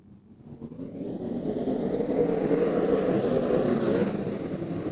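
A field of race cars rolling off at the start of a heat race swells from a distant rumble into a loud, sustained engine roar, with no voices over it.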